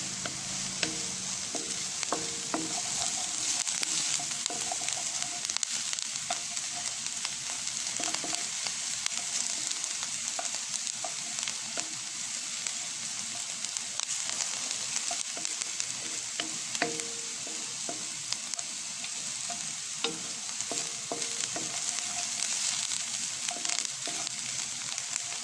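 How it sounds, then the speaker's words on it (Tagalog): Red onion sautés in a pan for adobong sitaw, with a steady hiss of frying and frequent stirring scrapes running close and continuous. "Kailangan medyo mag-brown yung red onion natin"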